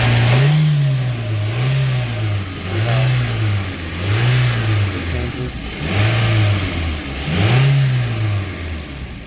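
A 2006 Toyota Corolla engine is revved up and back down about six times in a steady rhythm, each throttle blip rising and falling over a constant idle drone, loud and close with no talking.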